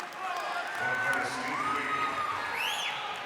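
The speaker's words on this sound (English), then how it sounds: "And this crowd is into it." A crowd at a Big Ten college wrestling match cheers and roars loudly throughout, with whoops and shouts swelling and ebbing, and a commentator talking over it.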